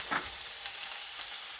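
Chopped whites of green onions sizzle in a hot frying pan for fried rice, a steady close hiss with a light stirring clatter at the start and no talking.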